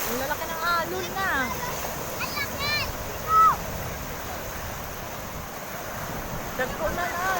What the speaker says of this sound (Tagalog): Ang lalaki ng alon na.